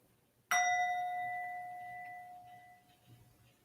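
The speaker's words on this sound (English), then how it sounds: "at the sound of the bell, your meditation is complete" A single meditation bell marking the end of a meditation session is struck once and rings with a clear, sustained tone that slowly fades over several seconds in a quiet room.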